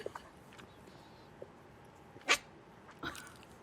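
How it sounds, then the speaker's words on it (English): A kitten raised among dogs gives two short, squeaky bark-like yips instead of meowing. The calls are close and isolated over a quiet, noisy room background. "This kitten was raised by dogs and doesn't know how to meow, but does know how to bark."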